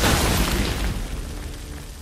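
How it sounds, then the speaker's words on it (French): A grenade detonates in the co-op shooter Army of Two: The Devil's Cartel, a loud, close, rumbling boom whose dense blast noise fills the moment and slowly tails off. "Grenade."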